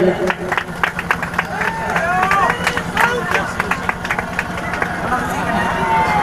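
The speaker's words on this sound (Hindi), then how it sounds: "जोरदार ताली से स्वागत करेंगे।" Crowd at a village football match prize ceremony clapping in welcome, irregular claps close by amid loud crowd chatter and voices.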